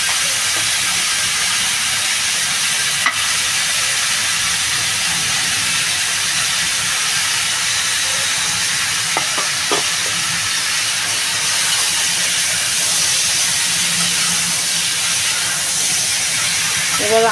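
Potato and eggplant sauté with turmeric in a pan for a chela fish curry, giving a loud, steady sizzling hiss throughout with a few faint clinks.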